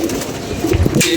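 Domestic pigeon cooing close by in a low, soft series of throaty calls over light outdoor background noise, with no talking.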